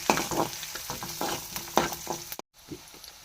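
Onions fry in oil in a pan at home, sizzling close up while a spoon scrapes and stirs in irregular strokes, then a brief dropout before the sizzle resumes more quietly.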